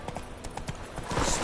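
Geralt's horse Roach trotting in The Witcher 3, brief evenly spaced hoof clops close by, building into a louder rush of movement at the end.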